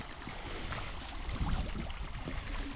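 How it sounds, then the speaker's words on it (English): Broad, rushing water flows steadily throughout, a dense, close wash of sound that swells slightly midway. "Plenty of water coming out of there."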